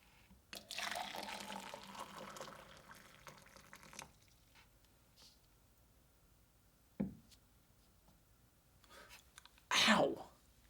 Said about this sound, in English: So now let's pour this in our little cup here.